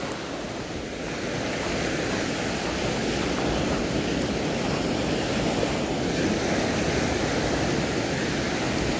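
Steady, roaring ocean surf washes in continuously against a rocky shore fishing spot at Palaca, Miagao, Iloilo, with broadband noise and a little wind, no voices.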